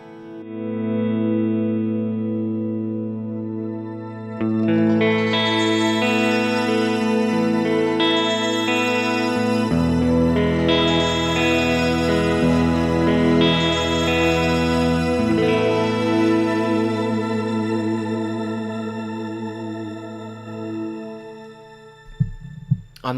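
Sustained electric guitar chords through a Fractal Audio AX8 multi-delay swelled in with an EV1 expression pedal, repeating echoes building into a thick, shimmering wash that rings out and fades, followed by a couple of brief clicks at the very end.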